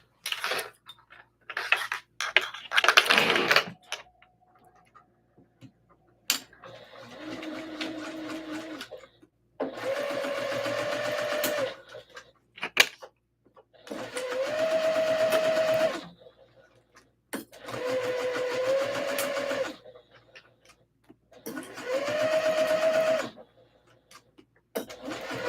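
A sewing machine stitches a dress in several bursts of steady mechanical whirring, each a few seconds long, separated by pauses with light handling clicks and rustles.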